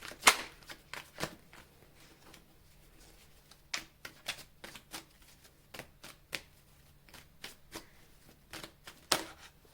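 Tarot cards being shuffled for a reading, heard as a quiet series of crisp riffling bursts and soft flicks at irregular intervals, with no talk.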